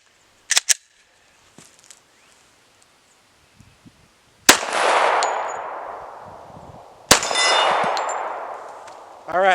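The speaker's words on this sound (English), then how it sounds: "hopefully we'll be able to hit the plate at least once in these 4 shots" Rifle shots from a .30-06 strike a steel CrossFit plate, with sharp cracks at the start and two loud blasts later, each ringing out with a long metallic decay.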